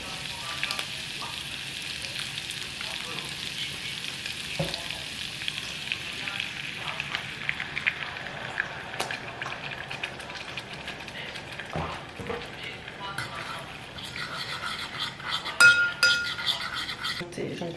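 A white wine, lemon and butter sauce bubbles and sizzles steadily in a pan nearby, with occasional clinks and scrapes of a utensil against the pan.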